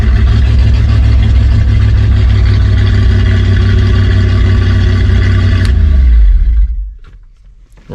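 An engine running loud and close with a steady rumbling hum after a push start, then winding down and fading out near the end.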